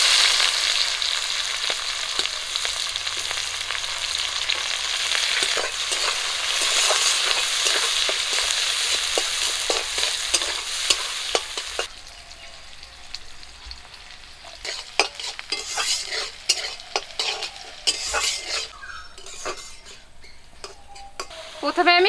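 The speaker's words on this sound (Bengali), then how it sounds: "মাছ ভাজার তেলেই আমি পেঁয়াজ কুচি দিয়ে দেব।" Chopped onion frying in leftover fish-frying oil in a pan over a wood-fired village stove, with a steady loud sizzle for about half the clip, then quieter crackling and scattered clicks of stirring.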